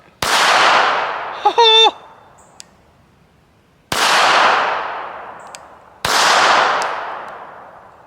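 Three sharp, loud Ruger Security .380 pistol shots at a shooting range, spaced a few seconds apart, each with a long decaying echo, plus a brief metallic ringing clang between the first two.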